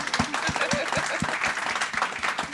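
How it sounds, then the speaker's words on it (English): A conference audience at a waterfront summit applauds the speakers, steady moderate clapping from a room of people throughout, with no speech over it. "Let's give our ladies here representing a round of applause"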